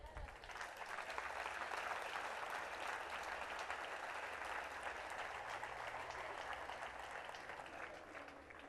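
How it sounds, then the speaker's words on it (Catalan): An audience applauds at a town festival proclamation in La Sénia, a sustained, fairly faint wash of clapping from many hands that holds steady throughout. "Crec que es mereix un fort aplaudiment."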